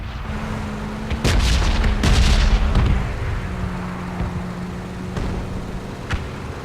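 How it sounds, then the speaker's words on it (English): Distant bombs explode in PlayerUnknown's Battlegrounds, a cluster of deep booms over a few seconds followed by a couple of fainter thuds, heard over a steady low vehicle engine drone. "You can already hear the bombs from far distance."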